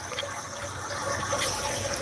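A tap runs continuously in the background, a steady rushing gush of water that grows a little louder toward the end, with no speech.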